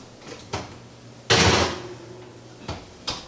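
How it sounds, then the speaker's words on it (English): An oven door shuts with one loud, close thud while cheesecake squares go in to bake, framed by a few lighter knocks and clatters before and after. "So let's put this in the oven."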